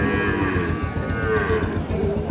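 A Sahiwal cow at a busy cattle market gives a close, sustained low moo. A dense background murmur of the market sits beneath it.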